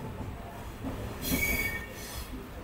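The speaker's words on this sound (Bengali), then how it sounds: "এই আমাদের ট্রেনটা কিছুক্ষণের মধ্যেই বোলপুর স্টেশন ঢুকবে।" Wheels of the Shantiniketan Express squealing against the rails as the train approaches Bolpur station, a rising metallic screech over a steady rumble of moving carriages, heard from aboard.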